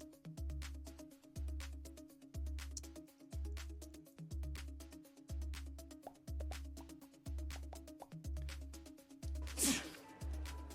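A single sharp sneeze bursts out near the end, close and loud, over a looping beat of background music.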